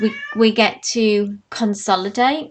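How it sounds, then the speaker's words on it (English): A house cat meows loudly and close by in a series of drawn-out, wavering cries, with a short pause partway through. "Sorry, that is my cat."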